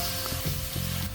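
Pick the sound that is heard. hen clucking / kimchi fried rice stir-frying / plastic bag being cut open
kimchi fried rice stir-frying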